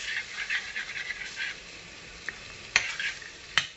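An egg fries with luffa in a pan, giving a continuous bright sizzle with bursts of stirring and a couple of sharp clinks of a utensil against the pan.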